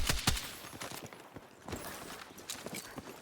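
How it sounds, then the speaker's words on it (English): Battlefield 6 combat with RPG fire, heard as a few sharp, fairly distant blasts and cracks scattered irregularly over a few seconds, alone without talk. "So we got guys shooting RPGs now"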